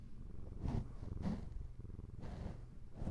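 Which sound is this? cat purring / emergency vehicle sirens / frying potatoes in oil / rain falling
cat purring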